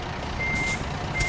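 A truck in American Truck Simulator sounds steady electronic reversing beeps, two tones heard close over a low engine rumble.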